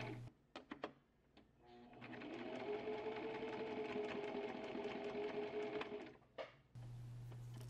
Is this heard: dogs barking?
no